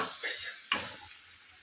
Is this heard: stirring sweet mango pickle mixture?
yes